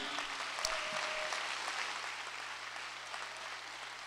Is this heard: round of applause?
yes